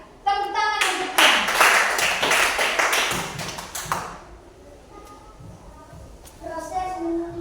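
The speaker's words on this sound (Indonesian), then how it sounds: "Tepuk tangan untuknya." Students in a classroom clap for a classmate in a short burst of sharp, close applause lasting a few seconds, then fading to quiet with a voice speaking briefly before and after.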